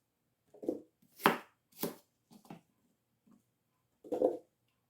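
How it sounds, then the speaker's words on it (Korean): Knife chopping apples into pieces on a board at home, five or six distinct cuts in an uneven rhythm, close and fairly quiet with pauses between strokes. "이렇게 사과도 이렇게 갈기 좀 좋게 이렇게 적당하게 잘라 놓으면 됩니다."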